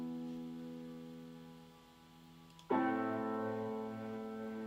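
Sustained string ensemble bass notes join a held piano chord, entering with a sudden swell partway through and ringing on steadily, soft and alone.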